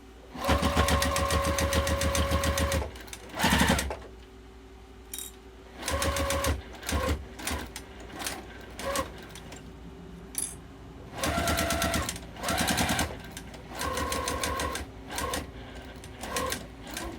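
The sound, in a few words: sewing machine back stitching fabric wallet sides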